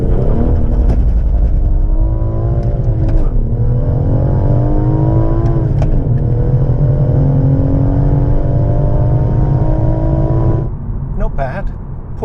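A manual three-door BMW M140i running Michelin PS4 tyres and a limited slip differential pulls hard from standstill, its engine rising through the revs with brief dips at each gear change, loud and close from inside the cabin.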